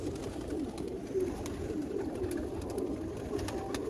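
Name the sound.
Sialkoti pigeons cooing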